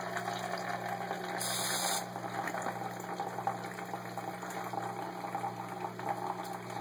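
An automatic bartender machine runs a steady pumping and liquid-pouring whir while making drinks, continuous and close, with a brief higher whine partway through.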